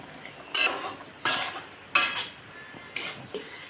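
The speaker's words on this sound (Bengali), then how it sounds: "এবার আর একটু কষিয়ে নেব" Soybean and potato curry being stir-fried in a pan, a spatula scraping and clanking against the metal in four rhythmic strokes over a soft background sizzle, close up with no talking.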